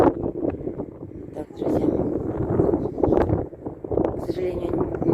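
Strong wind buffets the microphone atop Mount Mithridat, roaring and gusting in uneven surges throughout, while someone speaks briefly over the blustery noise.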